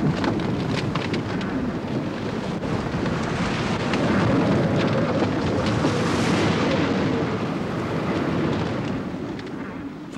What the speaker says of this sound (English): She was hit by gales.